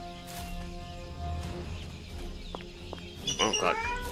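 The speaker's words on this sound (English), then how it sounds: "there's a cat somewhere." A cat meows a few times against steady background noise, with a louder, wavering cry near the end.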